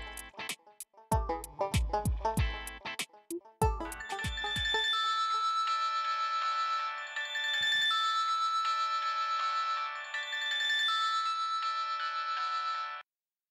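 A phone ringtone in a domestic TV drama scene. A few seconds of percussive, plucked notes lead into a sustained bright electronic melody that plays on steadily and then cuts off abruptly.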